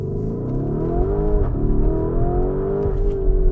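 A 2019 Lamborghini Urus accelerating hard, loud close engine roar with rising harmonic tone, a brief dip as it shifts gear, then climbing again without any talk.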